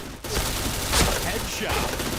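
Rapid burst of gunfire in a multiplayer shooter video game, dense continuous crackle with a sharper shot near the middle, loud and close, a voice faintly under it.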